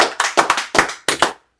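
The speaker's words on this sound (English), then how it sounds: "Clap it up for the sister." Members of a congregation at a Sabbath service clap in a short, uneven burst of about a dozen crisp claps lasting just over a second, then stop abruptly.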